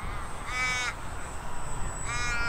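A crow caws twice at an outdoor model airplane flying field, two drawn-out harsh calls about a second and a half apart, fairly distant over steady wind noise.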